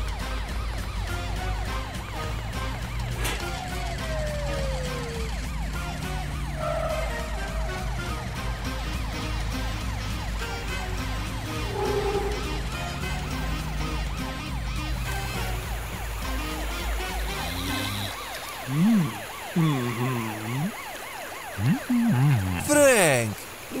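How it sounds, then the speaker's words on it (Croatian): Cartoon police car sirens wail in a steady, rising-and-falling loop for most of the stretch, with character voices speaking over them before the sirens give way to other noises near the end. "Ne čujem te od sirena."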